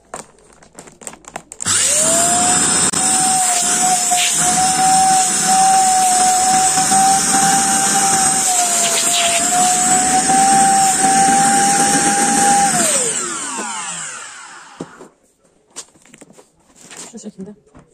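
A vacuum sucks air out of vacuum storage bags, a loud steady motor whine that holds for about eleven seconds, then winds down as the pitch drops, with brief handling noises before and after.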